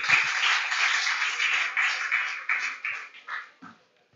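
An audience applauds at a school award ceremony, a steady wash of clapping that thins out and fades toward the end.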